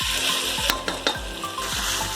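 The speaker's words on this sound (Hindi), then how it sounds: "अब इसको हम थोड़ा सा फुल फ्लेम पे 1 मिनट की फ्राई करेंगे।" Dry chicken karahi fries hard over full flame, a dense continuous sizzle with a few sharp scrapes and clanks of a spoon against the pan, close and loud.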